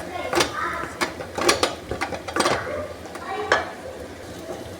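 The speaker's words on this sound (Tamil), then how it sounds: "பீட்ரூட் சாதம் கிளறிக்கலாம்." Beetroot rice being stirred in a pan, a series of sharp, close scraping clatters of a ladle against metal in an uneven rhythm with brief pauses between strokes.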